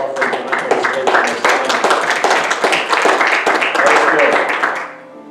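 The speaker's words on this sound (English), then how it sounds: "let's see a little bit clap offering tonight" A church congregation breaks into a clap offering during an evening service: steady, rhythmic clapping from many hands, with voices mixed in, before the sound cuts off near the end.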